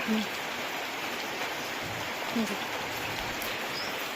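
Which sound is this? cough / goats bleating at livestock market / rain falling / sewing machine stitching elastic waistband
rain falling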